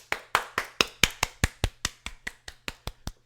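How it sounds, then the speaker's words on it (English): One person claps hands in a steady rhythm, about fifteen sharp, close claps, evenly spaced and alone, with a faint low hum underneath. "I give a round of applause."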